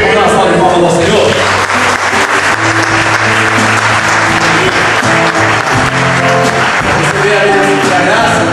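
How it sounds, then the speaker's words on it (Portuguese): A church congregation applauds in praise, a dense continuous clapping that fills the room while sustained music or organ tones play beneath and voices speak over it. "Vamos dar uma salva de palmas ao Senhor."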